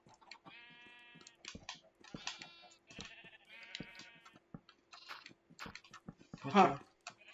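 Sheep bleat repeatedly in a video game, several wavering cries spaced through the scene with one loud bleat near the end, while people talk over them.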